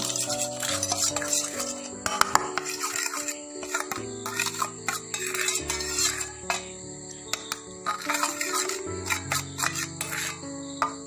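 A spoon stirs and scrapes a multani mitti face pack in a small bowl, with repeated clicks and scrapes of utensil against the bowl, close and clear with no talking.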